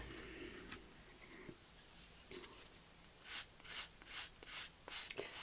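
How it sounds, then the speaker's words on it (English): Nail file sanding the edge of a resin bookmark, soft scattered rubbing at first, then a run of quick rhythmic rasping strokes, close and quiet. "I find a nail file works just fine"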